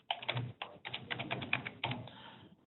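Keys clatter on a computer keyboard as a short title is typed, in quick uneven bursts of taps with brief pauses, close and fairly quiet, with no talking.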